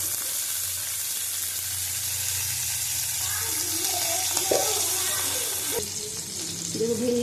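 Okra fries in a pan with turmeric powder, giving a steady close sizzle throughout, with faint speech underneath.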